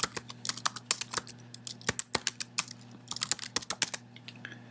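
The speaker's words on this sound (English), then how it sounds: "you can simply type it here" Rapid, irregular clicks of fingers typing on a computer keyboard, close and fairly quiet, with a short pause midway and a low steady hum underneath; no voices.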